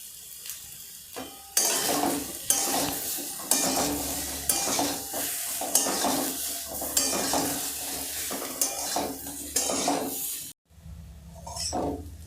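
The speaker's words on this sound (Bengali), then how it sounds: "এইভাবে তেলের উপর খুব সুন্দর করে লাল লাল করে ভেজে নিতে হবে" Taro root and prawns frying in hot oil for a Bengali chingri kochu dish, with a steady loud sizzle broken by repeated scraping stirs of a spatula against the pan, then a brief pause and quieter sizzling at the end.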